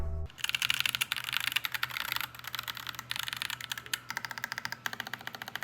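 Rapid clacking of a mechanical keyboard, keys struck in quick bursts with brief pauses, close and steady, no voices.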